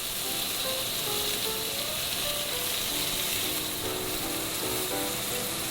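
Beef browns in oil in a hot pan for stroganoff, giving a steady, close sizzle with faint scraping and clicking as the pieces are turned. No one speaks.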